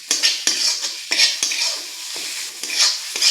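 Tomato, green chilli and poppy seed paste is sautéed in a pan, with a soft steady sizzle and repeated scraping strokes of a spoon against the metal, close and alone.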